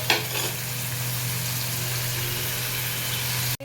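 Ghee, garam masala, sugar and salt are stirred into a cooking dish, giving a steady close sizzle with scraping stir sounds for a few seconds, then a sudden cutoff at the end.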